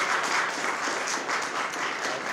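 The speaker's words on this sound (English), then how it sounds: "give it a clap." Dense applause from a crowd at a Dominican Republic flag raising at Brockton City Hall, marking 178 years of independence; continuous, even clapping at close range with no talk over it.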